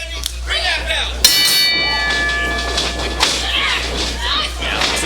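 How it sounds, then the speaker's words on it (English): A wrestling ring bell rings sharp and loud to start a women's match, with a short earlier strike and crowd noise and a commentator talking around it. "Bring that bell!"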